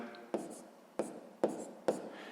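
A math calculation written out by hand, sharp taps of a pen or chalk hitting the surface four times in uneven rhythm with brief scratchy strokes between, close and quiet.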